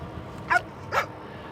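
A dog barks twice, two short, moderately close yips about half a second apart, heard over a quiet outdoor background.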